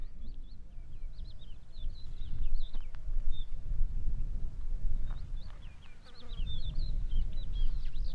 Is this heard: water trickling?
no